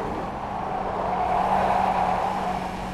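A race car engine at Brands Hatch in the iRacing simulator holds a steady, loud drone under hard throttle. It swells slightly in the middle and carries a constant low hum throughout, with no talk.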